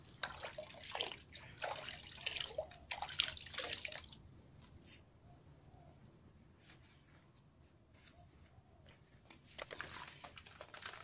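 Wheatgrass seeds are stirred and levelled in a container of water, making wet swishing, dripping and grainy rustling in two bursts with a quieter trickling stretch between, close by, with no speech.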